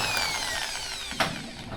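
A power drill bores a hole during a screen door installation, its steady high motor whine running throughout, with a brief sharp burst near the end as the bit bites into the material.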